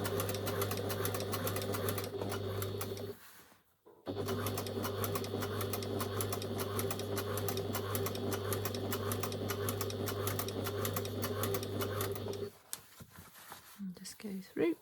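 A sewing machine top stitches a Pilar jacket with a lengthened stitch of about 3.5, its steady close whirring hum running unbroken for several seconds, stopping briefly and resuming, then halting near the end.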